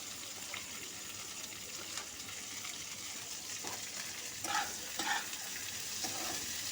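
Onions, beans and carrots fry in a pan with a steady, moderately loud sizzle, and a few short stirring scrapes and clatters come near the end.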